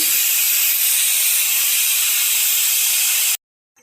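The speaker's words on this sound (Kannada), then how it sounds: "ಈಗ ಒಂದು ಇಲ್ ಬರ್ತಾ ಇದೆ ಒಂದೇ ಒಂದು ಇಲ್ ಸಾಕು" A pressure cooker cooking lentils for vegetable sambar lets out its whistle, a loud, steady rush of hissing steam that runs continuously for about three seconds and then cuts off abruptly into near silence.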